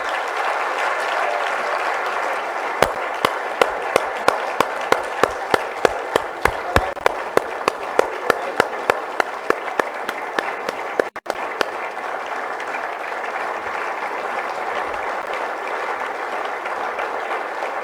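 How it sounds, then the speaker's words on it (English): A large audience at a political speech event gives a round of applause that holds steady and loud throughout, with a run of sharp, evenly spaced single claps standing out in the middle. "Can we have another round of applause again,"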